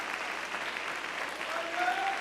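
A church congregation claps in steady, sustained applause, moderately loud, with faint voices and a brief tonal sound rising near the end.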